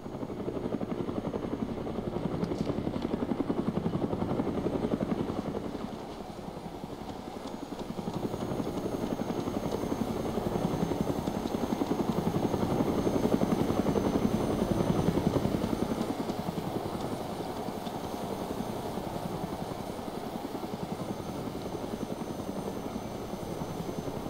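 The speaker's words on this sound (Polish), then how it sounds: "Trzeba jakoś ochrzcić ten nasz helikopter" A helicopter in the survival video game DayZ Epoch drones steadily with a loud, continuous rotor and engine roar that swells and eases slightly across the whole stretch, without talk.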